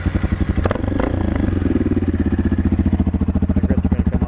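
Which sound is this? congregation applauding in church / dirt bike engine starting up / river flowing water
dirt bike engine starting up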